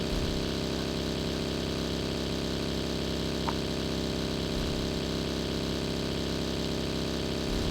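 A motorcycle engine in a PUBG-style video game drones on at an even, unchanging pitch, a steady mechanical hum with no other sounds breaking through.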